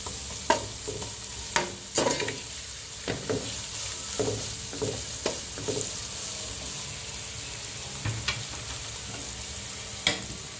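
Ginger and garlic sauté in a pan for schezwan noodles, a low steady sizzle broken by repeated sharp scrapes and clanks of stirring at an uneven rhythm, close by.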